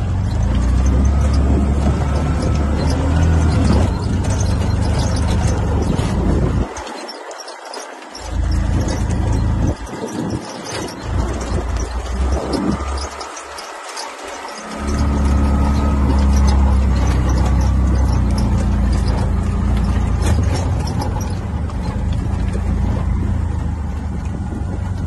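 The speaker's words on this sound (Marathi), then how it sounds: "बघा डोंगरातून कसा रिक्षा चालवतो मी" An auto rickshaw drives along a mountain road, its small engine a loud continuous rattling drone up close, briefly dropping away twice as the motor cuts or eases, then returning steady and strong.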